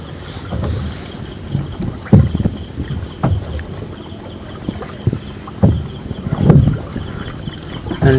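A boat is dragged along a river, with scraping thumps and knocks at irregular intervals over steady wind and water noise.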